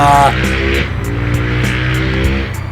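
A supercharged Nissan 370Z fitted with a V8 revs hard, a loud close engine rising and falling in pitch in quick sweeps with a brief gear-change dip.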